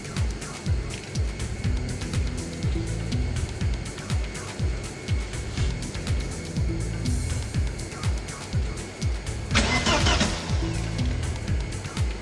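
A Vauxhall Astra GTE 16V engine cranks over steadily without firing during a restoration, its rhythmic starter churn loud and close, with a fuel pump running and a short burst of hiss near the end; no one speaks.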